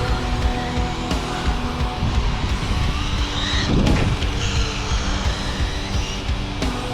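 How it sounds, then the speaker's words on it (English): A vintage Kyosho Ultima Rat Rod RC car spins out of control on loose ground, its electric motor whining steadily with a brief scrabbling burst mid-clip, close and fairly loud with no talk. "I can't get full throttle, it'll just spin out of control."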